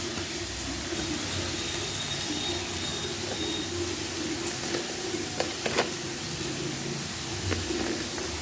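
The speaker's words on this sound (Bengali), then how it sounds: "দেখো আলুটা ভাজা হোক লাল লাল করে" Potatoes frying in a pan, with a steady soft sizzle throughout and a few small clicks and pops from stirring or spattering, close and fairly quiet.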